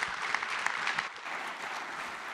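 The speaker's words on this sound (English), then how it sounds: "Please, ladies and gentlemen, round of applause." An audience at a conference panel applauds, steady moderately faint clapping with a few sharper individual claps, fading slightly toward the end.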